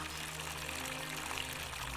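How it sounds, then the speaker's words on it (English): Steady rushing water in The Forgotten City video game, a continuous, even wash of flow that fills the short moment without pause. "Where could the water be coming from?"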